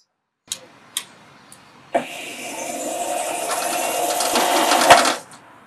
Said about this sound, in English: The machine is easily started by turning it on, pressing the red button, and engaging the batteries.